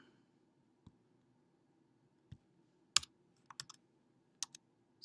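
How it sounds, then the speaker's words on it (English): A password being typed on a computer keyboard, heard as a handful of sparse, separate clicks and soft taps with pauses between them, quiet and close in an otherwise silent room. "So type in a password."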